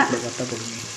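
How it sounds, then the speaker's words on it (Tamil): Onions cook with yogurt for double beans biryani, a close, continuous sizzle and frying hiss with stirring scrapes, no voices. "தயிர் சேர்த்துட்டோம். இப்போ நல்லா இதை வதக்கலாங்க"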